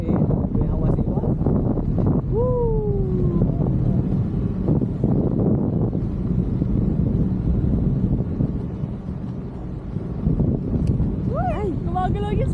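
Strong wind roars steadily against the microphone during a parasailing ride, a constant buffeting rumble with people talking and exclaiming over it throughout.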